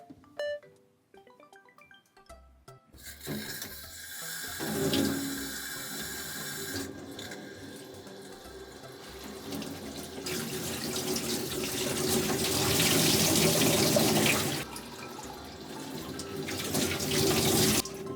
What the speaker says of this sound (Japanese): ここの中からこう洗っていきます。